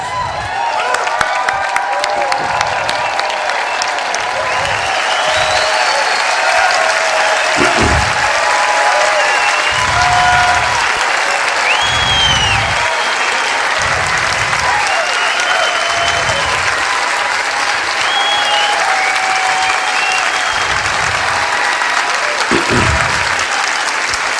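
A standing audience gives a speaker sustained applause, loud and dense clapping that fills the whole stretch with a few whoops and cheers rising out of the crowd, steady from start to finish.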